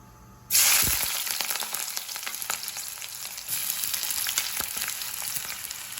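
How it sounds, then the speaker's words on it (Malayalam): Sliced onion and two green chillies hit hot oil with a sudden loud sizzle that settles into a steady, close frying hiss with faint crackles throughout. "ഇനി ഇതിലേക്ക് ഞാൻ ഒരു ചെറിയ സൈസ് സവാള അരിഞ്ഞത് ഇട്ട് കൊടുക്കാം. നീളത്തിൽ കട്ട് ചെയ്തതാണ്. അതും 2 പച്ചമുളക്."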